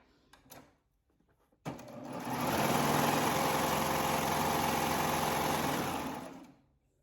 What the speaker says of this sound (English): turn your garment all the way towards the back so that you can serge yourself off a tail